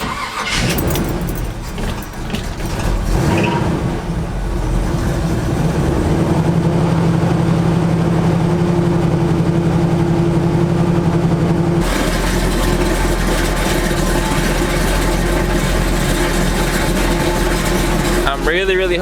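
Car engine cold start followed by idling, on a vehicle with an exhaust leak: a cranking catch and roar settle into a steady, close, loud idle hum that shifts in tone partway through, with faint talk in the background.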